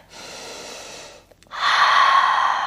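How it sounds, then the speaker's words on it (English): Deep, steady yoga breathing during a power flow, a long airy inhale followed after a brief pause by a louder, fuller exhale, close and without talk. "Big breath in, and a big breath out."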